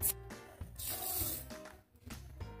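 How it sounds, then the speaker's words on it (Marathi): Water poured into a cooking pot in brief splashing gushes with short pauses between them, close and fairly quiet, with no talking. "त्या पातेल्यामध्ये आपण ओतणार आहोत 2 वाटी पाणी"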